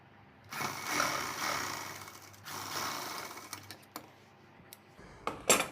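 Sewing machine stitching a seam on a princess-cut blouse, a steady close mechanical whirr running for several seconds, pausing briefly, then resuming with sharper clicks near the end; no talking.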